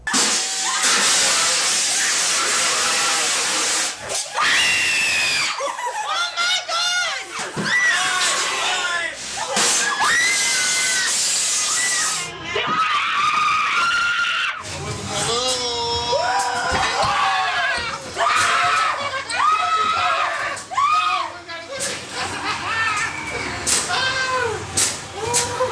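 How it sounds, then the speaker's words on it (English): Shrill, high-pitched screams ring out inside the Georgetown Morgue haunted house, coming in loud overlapping bursts and wails mixed with crowd noise and people talking. "on a typical night, you hear an awful lot of blood-curdling screams"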